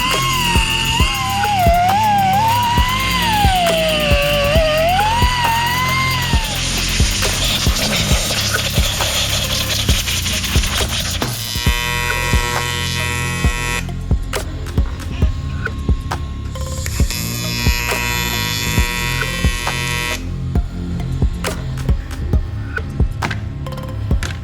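Die grinder working on a Corvette chassis, a steady high-pitched whine that wavers as the load shifts, over constant mains-like hum, with harsher grinding bursts later on.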